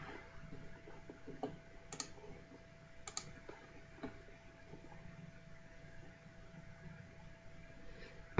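A computer mouse clicking a few times on a desktop, scattered sharp single clicks close by against a quiet room.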